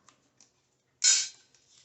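Sheet metal being cut for a cowl repair on a 1967 Camaro: one sharp, bright snip of shears, preceded by faint ticks and followed by a light scrape, close and otherwise quiet.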